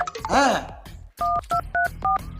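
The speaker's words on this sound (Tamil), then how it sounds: "ஒருத்தருக்கு ஃபோன் அடிக்கிறேன்." A phone being dialed to call someone: a string of four distinct keypad tones beeps in quick succession, preceded by a brief voice and a sweeping electronic sound.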